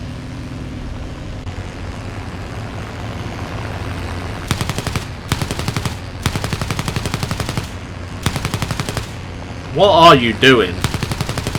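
Bursts of machine-gun fire from an enemy aircraft in War Thunder, heard as several rapid, evenly spaced volleys over a steady engine drone, with a voice speaking briefly near the end.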